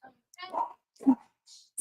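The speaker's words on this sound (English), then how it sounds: "That's why the dogs are going crazy." Excited dogs at home giving short yips and whimpering barks in brief bursts, fairly faint, with quiet gaps between.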